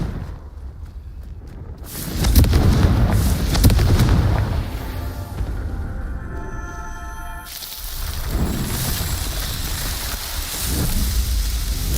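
Confringo blasting spell detonating in a Harry Potter video game, a loud booming burst with rumbling low-end debris that swells, fades and returns in a second softer wave over several seconds.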